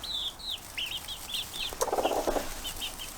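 Young chicks, including a barred rock, peep in short high repeated chirps close by, and wings flap briefly in a quick burst in the middle.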